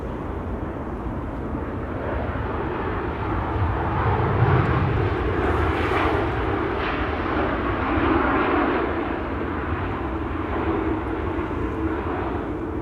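An Embraer E2 195 jet roars steadily at Amsterdam Schiphol Airport, a loud, broad engine rumble that swells slightly in the middle and holds throughout with no voices over it.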